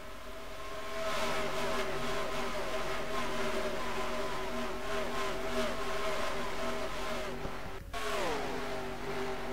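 NASCAR-style stock cars racing at Michigan in a video game, a steady loud engine drone from the pack with a car sweeping past near the end, its pitch dropping as it flies by.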